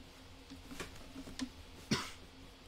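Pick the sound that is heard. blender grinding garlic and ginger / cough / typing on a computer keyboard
cough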